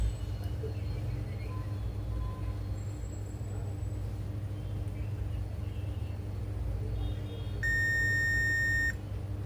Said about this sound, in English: Yes, it is beeping.